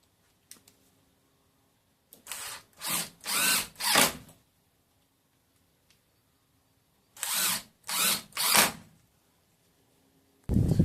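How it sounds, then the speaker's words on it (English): A power drill drives two screws into wood while building a higher balcony, each a rising whir of three or four short bursts, close and loud with quiet gaps between and a brief clatter at the end. "Put 2 screws in."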